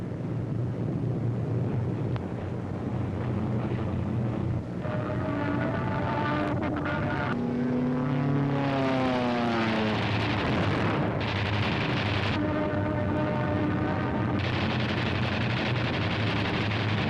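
P-47 fighter aircraft fly overhead with a sustained engine roar and rising and falling drones as planes pass, mixed with wind and rumbling in a wartime air battle.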